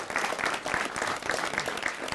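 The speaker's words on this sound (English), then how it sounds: "Let's give him a big round of applause" A studio audience applauds an honors graduate now in law school, a steady, fairly full burst of clapping from many people lasting a couple of seconds.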